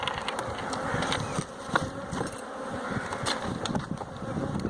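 Honey bees buzz in a steady, close, continuous drone, with brief louder swells as individual bees pass near.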